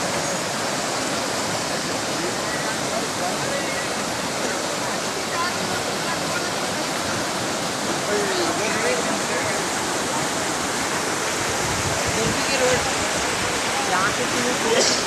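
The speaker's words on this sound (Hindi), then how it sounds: "कोंडापुर मंडल के सईदापुर से अनंत सागर जाने वाली सड़क बारिश के बायस आने वाले सैलाबी रेले में बह गई।" Floodwater from heavy rain rushing over a washed-out road between Saidapur and Anantsagar in Kondapur mandal, a loud steady torrent roaring without break throughout.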